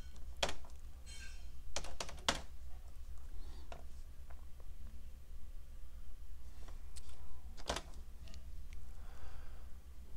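A computer keyboard is typed on in sparse, irregular clusters of sharp key clicks with pauses between, close and fairly quiet over a low steady hum, as a terminal command is entered.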